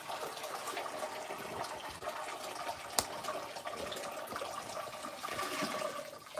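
Water drains steadily from freshly dyed puppet fleece, a continuous close-up trickling and splashing that holds a fairly even level for several seconds, with one sharp drip or tap about halfway through.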